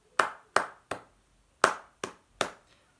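Hands clap a short rhythm during a primary-school recorder lesson, six crisp, close claps in a quick pattern with a brief pause partway through and nothing else sounding.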